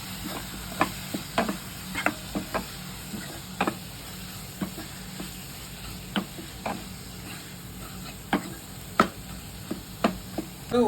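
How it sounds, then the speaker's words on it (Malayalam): Spoon stirring masala in a pan for chicken potato curry, with coriander powder, ground spice paste and garam masala. Soft scraping strokes come at an irregular pace over a low steady sizzle, with sharp clicks scattered through, close and fairly quiet. "ഇത് നല്ലോണം ഇളക്കുക."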